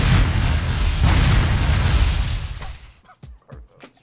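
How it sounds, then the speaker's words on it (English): A loud booming explosion in the Roblox video game roars at close range, holds a deep rumble for over two seconds, then cuts off into a few short soft thumps and pops. "What caused it to explode is my question."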